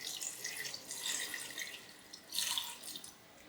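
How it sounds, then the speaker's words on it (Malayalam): Water is poured into a pot of cherupayar (green gram) curry, making a steady splashing hiss with a couple of louder surges. The pour is close and there is no talk. "ഞാൻ ഇതിലേക്ക് പാകത്തിന് വെള്ളം ഒഴിച്ച് കൊടുക്കണം കേട്ടോ."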